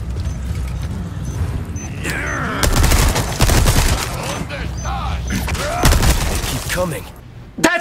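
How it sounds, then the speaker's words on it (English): Machine gun fire in the Resident Evil 4 Remake crackles in loud repeated bursts, with sharp rattling volleys and impacts mixed with game clatter, while people talk excitedly over it. "I don't know if I like the machine gun"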